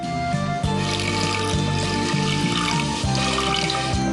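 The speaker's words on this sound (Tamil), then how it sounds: "கொஞ்சம் தண்ணி ஊற்றி வேக வைக்கலாம்." Water poured into a pressure cooker onto black-eyed peas for a Tamil cooking dish, a steady close splashing stream running throughout over a low repeating background tone.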